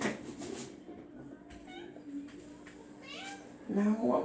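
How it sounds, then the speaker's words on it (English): A pet cat meows several times in a home kitchen, brief high cries scattered across the moment, with a louder meow at the end over faint background sounds. "That was my cat."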